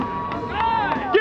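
A crowd at an NHRA drag racing finals in Gainesville, Florida, cheers for the champion, a short burst of mixed shouts and a harmonic whoop rising over steady crowd noise.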